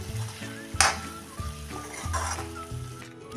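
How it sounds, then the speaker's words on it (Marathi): Dal and bottle gourd curry with grated coconut and coriander is stirred in a pan, giving soft scraping strokes over a low simmer, with one louder clatter near the start and faint music underneath. "आता ही एकसारखी हलवून घेते"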